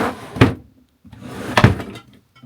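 Two office drawers slide open indoors, each a rolling scrape ending in a sharp wooden thunk, close and loud, spaced about a second apart with no talking.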